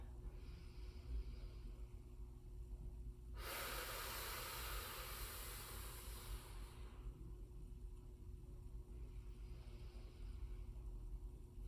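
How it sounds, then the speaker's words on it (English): A slow, steady exhale through the mouth during a lying-down hip-lift breathing exercise, one long airy breath of about three seconds, close and soft against a low background hum. "expand through here, exhale through my mouth"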